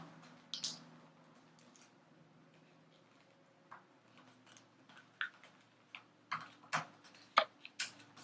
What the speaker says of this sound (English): I'm going to fold this edge right to the center line